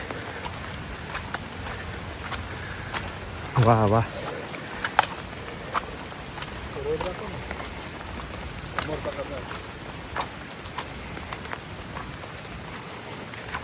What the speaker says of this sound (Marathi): पाऊस पण एकदम परफेक्ट रिमझिम पाऊस चालू आहे